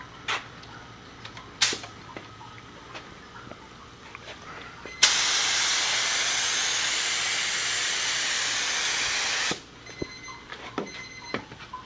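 Kansas Hydrographics activator is sprayed in one continuous, loud hissing burst lasting about four seconds, set between quieter stretches with a few sharp clicks and knocks before and after.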